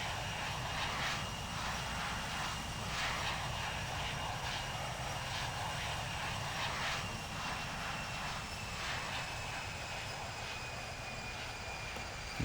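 Airliner engines in the Infinite Flight simulator, a steady loud roar with a sustained high whine running unbroken throughout, heard alone.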